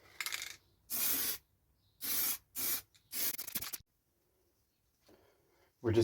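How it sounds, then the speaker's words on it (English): An aerosol spray can coats a machete handle black in short hissing bursts, five sprays of about half a second each with pauses between, close by in a quiet room. "We're just going to spray the handle now,"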